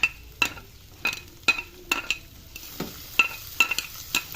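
Onion added to garlic frying in a pan, with a quiet sizzle under a series of sharp metallic clinks and scrapes of a utensil against the pan at irregular intervals.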